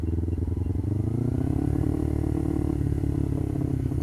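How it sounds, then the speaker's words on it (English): A sport motorcycle engine drops a gear while riding, its steady droning note holding close and loud throughout, with rumbling changes in tone as the revs settle after the downshift. "that was like the smoothest downshift I've ever done"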